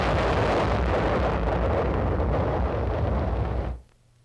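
A single long artillery roar, loud and close, rumbles in a continuous broad blast for several seconds before cutting off abruptly into near silence.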